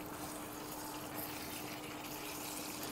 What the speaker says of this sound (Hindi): अब थोड़ा सा इसमें मैंने पानी डाल दिया है